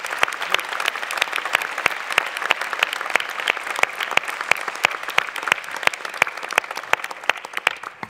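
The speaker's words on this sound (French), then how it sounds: "je vous demande de l'applaudir très fort" A crowd at a 2024 New Year's greetings ceremony applauds loudly and steadily, with many hands clapping together and individual sharp claps standing out throughout the stretch before it begins to thin at the end.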